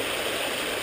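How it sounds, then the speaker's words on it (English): A small creek runs beside a sandbar at the edge of a street, its steady broadband rush of flowing water filling the short stretch with no talk over it. "a little creek here"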